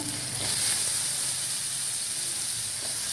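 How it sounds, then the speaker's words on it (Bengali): Potatoes fry in hot oil in a kadai, giving a steady, close, bright sizzle and hiss that holds evenly throughout with no voices. "তার জন্য কড়াতে আমি আলুগুলো দিয়ে দিলাম।"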